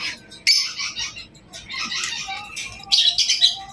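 Cockatiels chirp and tweet in quick, bright bursts, several calls overlapping, close by and fairly loud, with no voices.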